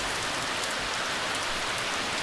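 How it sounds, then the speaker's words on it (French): Heavy rain pours down in a dense, continuous hiss of drops, loud and close, with no voices during a cycling stage toward Mont Ventoux. "Il pleut à torrent là"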